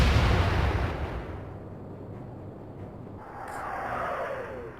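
Heavy 8-inch naval gun salvo of armor-piercing shells in the Atlantic Fleet game: one loud booming blast up front, fading into a long rolling rumble, with a rising whoosh near the end.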